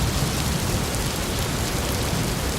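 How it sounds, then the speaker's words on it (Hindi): Heavy rain pours in a dense, steady, loud roar during a storm, with low rumbling beneath that suggests distant thunder; no voices. "आसमान में बिजली का कड़कना।"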